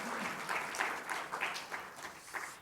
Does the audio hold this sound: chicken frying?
no